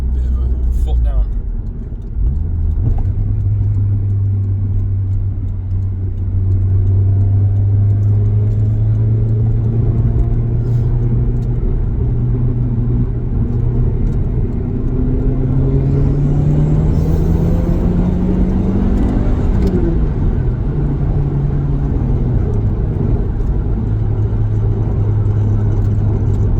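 A Toyota Celica GT4 turned up to full boost accelerates on a motorway, its engine droning and climbing steadily in pitch, dipping briefly with a gear change and rising again, with someone talking over the cabin rumble.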